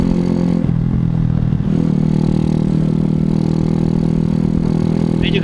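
A Suzuki Shogun SP 125 racing motorcycle runs close by at idle, a steady, loud buzzing engine note with some mechanical clatter and a brief dip in the rhythm early on.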